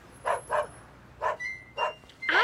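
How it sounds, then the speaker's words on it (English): A dog barks in short bursts, about five separate woofs spread unevenly over a couple of seconds, fairly close and clear, with a faint high whistle-like tone in the background and no talking. "I hear a dog barking."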